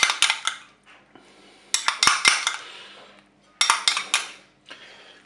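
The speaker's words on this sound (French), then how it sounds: "Maintenant, je vais ajouter mon mélange crème fraîche moutarde." Crème fraîche and mustard mixture being added to a salmon and leek gratin dish: bursts of spoon scraping and clinking against the dish in three clusters, close and crisp, with no talk.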